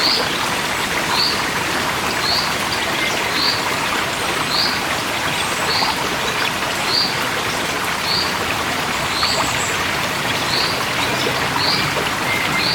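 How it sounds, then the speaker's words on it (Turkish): Steady rushing of a green stream flowing through the town of Tire, İzmir, fills the scene, with small chirps repeating at regular intervals above it. "Şehrin içinde yemyeşil suların aktığı bir yer."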